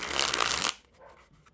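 A deck of thin Casey's playing cards sprung from hand to hand, a loud, fast flutter of cards for under a second, then a few faint soft taps as the deck settles.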